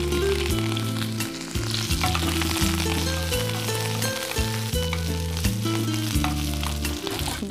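A tempering of cumin, curry leaves and coriander for pongal sizzles steadily in hot oil with crackling bursts, running under continuous background music.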